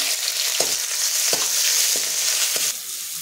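Onion, ginger and garlic fry in hot oil after a bay leaf, giving a steady broadband sizzle with a few soft scraping clicks from stirring, close and without speech, easing slightly toward the end.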